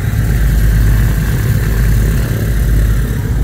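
A 1959 Cessna 310C piston aircraft engine idles just after starting, a loud, steady low rumble close by with no voices over it.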